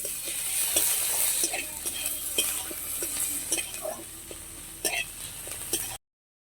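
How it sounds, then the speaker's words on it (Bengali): Garlic paste being stirred into fried onions in a pan gives a steady hiss of frying, with repeated scrapes and light taps of the spoon against the metal throughout. "এর মধ্যে রসুন বাটাটা দিয়ে দিলাম ভালো করে রসুন বাটাটা নাড়াচাড়া করে নেব"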